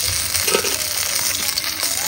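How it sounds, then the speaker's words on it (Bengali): Pangas fish fries crisp in hot oil, making a steady dense sizzle with small pops and crackles, close by and with no talk. "ও কড়া কড়া মাছ ভাজা"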